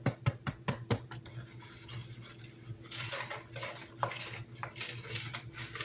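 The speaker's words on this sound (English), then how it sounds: "I'm just going to use the whisk." Wires of a whisk clatter quickly against a bowl while mixing lemon cake batter, a close run of sharp metallic taps that settles into steadier scraping and stirring.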